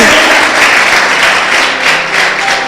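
A church congregation breaks into loud, dense applause during a Spanish-language sermon, a close, steady wash of many clapping hands sustained for several seconds with no talk over it.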